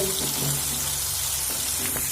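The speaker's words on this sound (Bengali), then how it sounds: "সিমগুলো ভেজে নেব একইভাবে আবার অল্প একটু লবণ আর হলুদ দিয়ে ভেজে নেব" Flat beans fry in a pan with salt and turmeric, giving a constant close, loud sizzle with slight crackles throughout and no talking.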